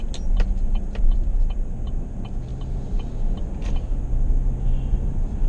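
A pickup truck drives along with its engine running, giving a steady low rumble and road noise throughout, with a few faint clicks and rattles inside the cab.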